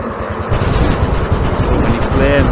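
Gunfire in a video game rattles in rapid, dense bursts, loud and close over a thick, roaring din for the full two and a half seconds.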